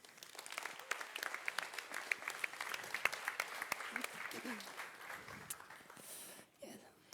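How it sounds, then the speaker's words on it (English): A lecture audience at a university discussion event gives a guest a steady round of applause. The clapping is quiet and somewhat distant, keeps an even patter throughout, and thins out near the end. "let's give a warm round of applause to our guest"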